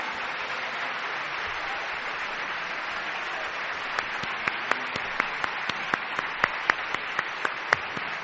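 Applause from an audience during a Spanish radio podcast on ghost stories and non-human entities: a broad, steady wash of clapping, with sharper individual claps standing out toward the end, and no talk over it.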